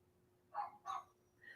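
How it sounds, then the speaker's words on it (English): A dog barks a few times in the distance, faint, short, separate yelps spread over a quiet background. "I'm sorry, that dog is barking."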